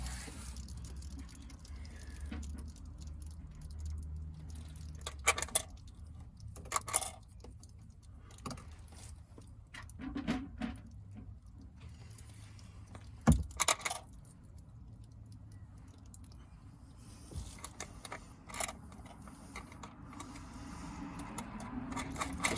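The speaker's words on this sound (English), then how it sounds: "putting the bolts back in place right now to hold the thing down" Metal bolts being set back in place on an InnovaSpa hot tub pump, with scattered soft clinks and taps over a low steady hum, fairly quiet throughout.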